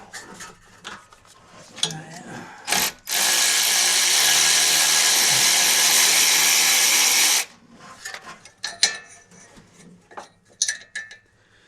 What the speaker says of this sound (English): Taking out the brake line.